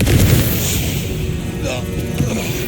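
Confringo blasting spells cast in Hogwarts Legacy video game, sharp booming bursts with crackling impacts, loud and close, spaced irregularly over a busy combat background.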